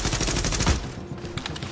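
Rapid automatic gunfire in the video game The Division, a dense loud burst of shots that cuts off, followed by fainter scattered reports.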